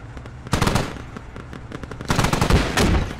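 Automatic gunfire from a military video game operation, with repeated loud bursts and scattered single shots, heaviest in two dense volleys, and nobody talking.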